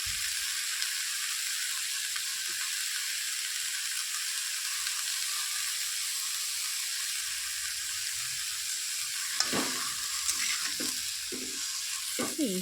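Chopped mixed vegetables, salted, cook in a pan with a soft, even sizzle, joined near the end by a few louder clatters of stirring.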